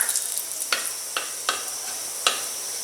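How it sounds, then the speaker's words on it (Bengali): Green cardamom, cinnamon and bay leaves sizzle in hot oil left over from frying fish, a steady hiss broken by four sharp stirring scrapes spaced evenly apart, with no talking. "মাছ ভাজার গরম তেলে আমি ফোড়নের জন্য রাখা ছোট এলাচ, দারচিনি আর তেজপাতা দিয়ে দিচ্ছি।"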